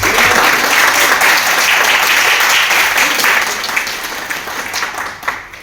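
An audience at a youth meeting in Ballabgarh applauds loudly for Malik ji, dense close clapping that holds strong for several seconds before thinning out near the end.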